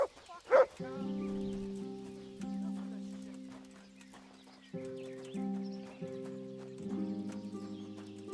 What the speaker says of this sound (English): You might actually ride the horse for this one.